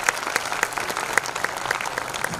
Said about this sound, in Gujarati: એકવાર જોરદાર તાળી મયૂર માટે થઈ જાય